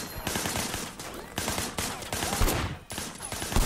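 Gunfire in the Sleeping Dogs video game: a series of loud, sharp shots fired at objects such as a TV and a pipe, coming in uneven bursts with brief gaps over a few seconds.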